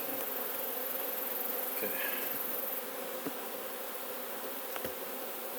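Honeybees flying around a backyard beehive make a steady, close, dense buzzing hum that continues throughout, with a few soft knocks and a brief word spoken over it.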